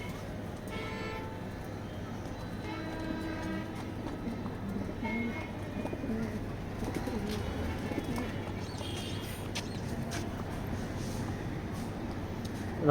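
Racing pigeons in a pigeon loft coo softly, their low murmuring calls faint beneath a steady background hum, with scattered rustling and light bird chatter throughout.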